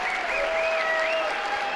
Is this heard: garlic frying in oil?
no